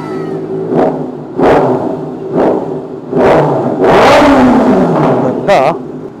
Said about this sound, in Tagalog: First ride natin sa ZX6R na naka-remap by Overdrive Moto